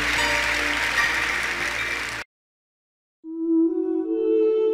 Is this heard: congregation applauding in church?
yes